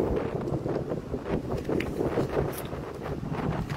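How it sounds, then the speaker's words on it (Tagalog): Steady gusting wind buffets the microphone outdoors in Taiwan, a continuous rumbling roar with no pauses and no voices. "Medyo maingay siguro kasi nandito tayo sa labas at saka yung mahangin."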